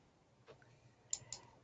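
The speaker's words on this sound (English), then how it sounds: "I'm clicking on Get Data" Two quick, faint mouse clicks in Power BI Desktop while selecting Get Data, close and crisp against near-silence, a softer tap preceding them.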